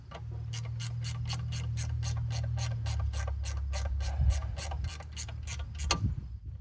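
Shroud bolts on a 1960 Jacobsen push mower are run down with a ratchet, giving a fast, steady series of close metallic clicks over a low hum, ending with a couple of heavier knocks.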